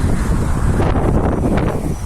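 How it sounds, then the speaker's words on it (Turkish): Strong storm wind roaring in Çorum, loud and constant with heavy gusty buffeting across the microphone and no voices. "rüzgardan ve fırtınadan ağaçlar yıkılacak, kırılacak gibi"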